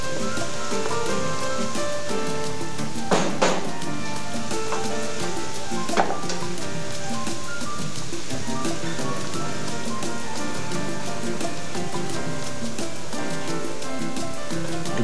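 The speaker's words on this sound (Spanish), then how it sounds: "lo vamos sofriendo un poquito para que esa harina de maíz coja sabor del ingrediente que tiene" Corn flour with garlic sautéing in a pot for tamal en cazuela, a dense, steady sizzle and crackle with a couple of louder stirring scrapes, close and constant.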